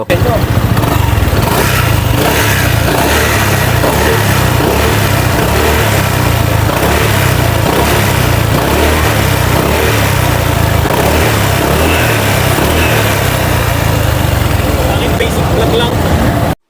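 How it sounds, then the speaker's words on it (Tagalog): Stock muffler exhaust of a 2025 Honda Click 160 scooter, an engine revving loudly and steadily at close range for the whole stretch. The revving runs without pause, with no speech over it. "At pakinggan naman natin ang sound test ng kanyang stock muffler."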